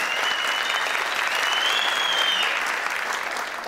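A studio audience at a Family Feud-style game show applauds a contestant, a dense, even clapping that holds steady at full strength and tapers slightly at the end.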